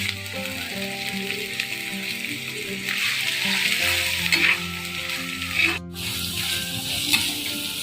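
Chopped onion and green chilli sizzle in hot oil while being stirred for a Kerala-style squid roast. A steady, moderately loud frying hiss runs under a music background, with brief scraping stirs.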